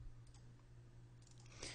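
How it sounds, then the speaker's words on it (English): A computer mouse double-clicks twice, each a quick pair of small, faint clicks over a steady low electrical hum while someone works in Fireworks 8. "I'm just double clicking and it selects that text."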